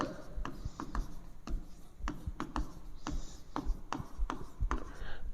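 Pen or chalk strokes of handwriting during a lesson on AC circuits with a resistor, a quick series of short scratchy strokes with small pauses between them, close and clear, with no talking over them.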